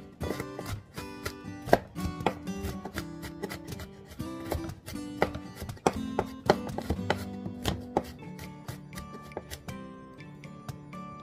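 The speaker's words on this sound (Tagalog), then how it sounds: "Hiwa muna tayo ng mga sangkap panggisa." A knife chopping garlic on a board before sautéing, producing rapid, close, sharp taps in a steady repeated rhythm that continues throughout.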